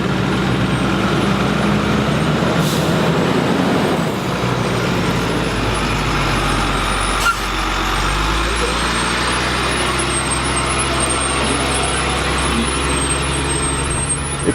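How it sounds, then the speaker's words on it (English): An extreme overland 4x4 RV truck drives along, a loud, steady low engine and road rumble with a brief hiss and faint whine above, running throughout. "It's quite an experience to test drive one of these trucks."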